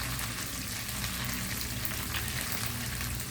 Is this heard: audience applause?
no